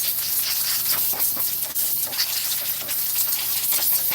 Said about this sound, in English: when I spray this with some sealer